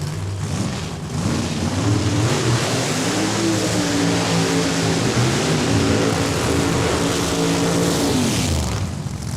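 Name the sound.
race cars doing side-by-side burnouts at raceway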